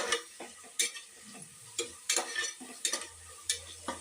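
Tomatoes frying in oil in a pan with onions, a soft steady sizzle broken by repeated scraping and stirring strokes at an irregular rhythm, close up.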